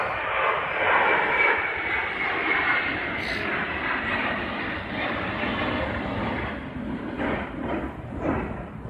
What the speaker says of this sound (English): That plane is coming crazy.